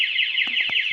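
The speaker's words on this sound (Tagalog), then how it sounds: "Alarm na yun." A Roblox Brookhaven alarm wails in a loud, steady electronic siren tone, rising and falling rapidly, with faint thumps in the background.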